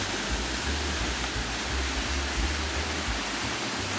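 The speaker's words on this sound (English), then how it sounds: "A steep slope down into the gorge takes you to the roaring Dolgok Falls." Dolgoch Falls, a roaring waterfall in a steep wooded gorge beside the Talyllyn Railway, pours as a steady, dense broadband rush with a low rumble, unbroken and close for the whole stretch.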